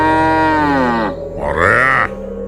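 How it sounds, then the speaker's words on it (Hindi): An angry cartoon bull in a children's story lets out a loud, harmonic grunting moo followed by a rising snort-like bellow, close and alone with no talk over it. "बैल फुंकार मारता हुआ तेजी से आगे"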